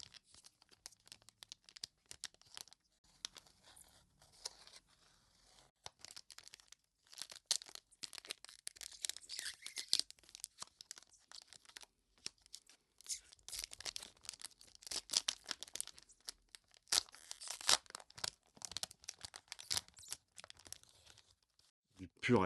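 Ghibli Fairy Tale World series 3 trading card booster pack opened up close, thick foil crinkling and tearing in bursts of sharp rustles that grow denser and louder through the second half, with faint talk early on.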